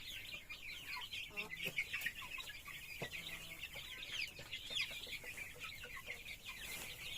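Upgraded native chickens about a month old in a large brooder, a continuous chorus of overlapping clucks and chirps from many birds, fairly faint and steady throughout, with no talking.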